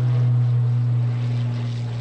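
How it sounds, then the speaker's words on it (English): A propeller airplane flying an aerobatic slider maneuver at the New York International Air Show gives a steady loud low engine drone that eases slightly as it goes, with no voices over it. "just sliding that airplane, cross-controlling it all the way up to show left"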